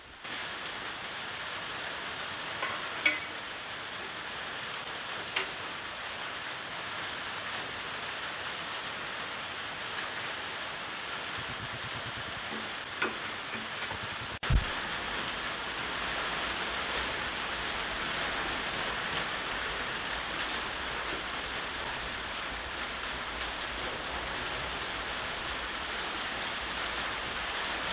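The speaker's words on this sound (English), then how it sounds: "I got a rainstorm hitting me right now" Steady rainstorm pouring down outside a home garage workshop during an engine build, a constant hiss of rain with a few faint knocks and clicks scattered through, no voices.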